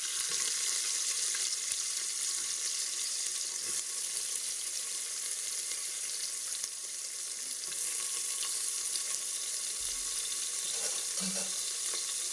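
Onions fry in oil with fennel seeds for a vegetable mix: a steady, even sizzle holds throughout, with a faint clink near the end and no talking.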